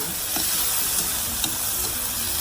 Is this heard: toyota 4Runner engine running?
no